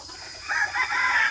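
Farm chickens cluck and a rooster crows during hot, rainy weather: a loud, nearby crow rises over steady clucking and lasts about a second.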